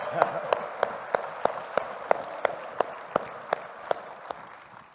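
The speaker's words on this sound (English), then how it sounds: "give yourselves a round of applause for a time like this" Audience of a gathering applauding and clapping together, a steady stream of sharp claps at a fairly regular pace standing out above a dense wash of crowd noise and chatter.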